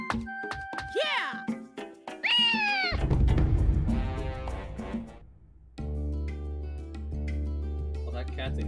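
A cartoonish cat meows twice in quick succession in the video game Naruto: Ultimate Ninja Storm, bright rising-and-falling cries up front, followed by game clatter and a sustained musical drone.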